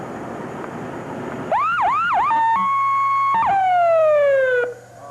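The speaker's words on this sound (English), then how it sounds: "Every time you blow the siren, the people sort of run in terror." A siren is blown in short rising-and-falling wails that break into steady held tones and then a long descending sweep, loud and close, with no talking over it.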